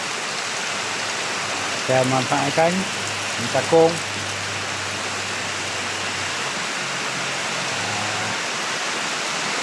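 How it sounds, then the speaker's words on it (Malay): Steady rain falls over a garden in a dense, even hiss, with someone speaking briefly over it partway through. "Inilah suasana hujan"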